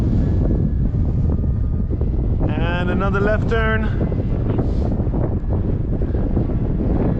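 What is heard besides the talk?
strong wind blowing at an RC airfield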